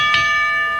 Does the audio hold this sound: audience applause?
no